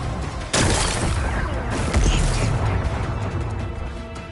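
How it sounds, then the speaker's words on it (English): Rocks blasted apart in Horizon Forbidden West, a sudden loud burst followed by a second heavy impact, then crumbling debris and a rumbling explosive tail that slowly fades. "Gotta blast away some rocks, so I can expose the power cell."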